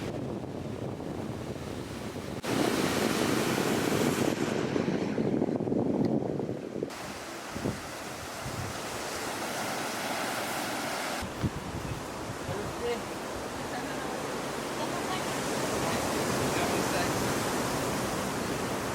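Ocean surf on the coast of Réunion Island, where a forest trail reaches the sea, makes a broad, continuous wash. It swells and eases in several stretches, with wind rumbling at the microphone and no voices.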